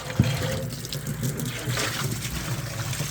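Water runs steadily from a tap into a sink fitted with a drain pump, a continuous close splashing and trickling that fills the short moment with no one talking.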